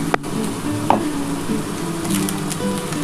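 Ginger-garlic masala sizzles and fries in a pan as a little water is poured in for a spicy lote fish curry, a steady close hiss with a few small stirring knocks, no voices.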